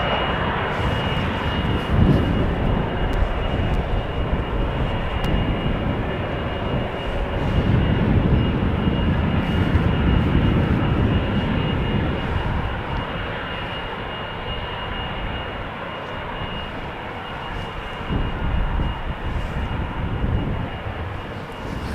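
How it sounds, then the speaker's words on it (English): A 19-year-old KLM Boeing 777-200 airliner, flight 661 bound for Houston, at Amsterdam Schiphol Airport gives off a steady, broad jet roar that swells in the middle and then eases, with no talking. "this is a 777-200 from KLM, flight 661"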